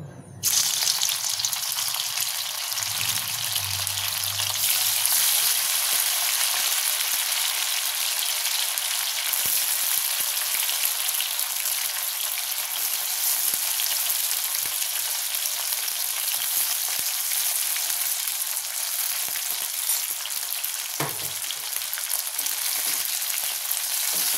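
Marinated baby corn fries in hot refined oil in a wok, a loud, dense, unbroken sizzle that holds steady, with an occasional faint clink or stir.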